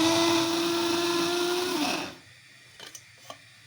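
A kitchen blender whirs steadily while grinding poppy seeds with a splash of water, then winds down and stops, leaving near silence broken by a few faint clicks.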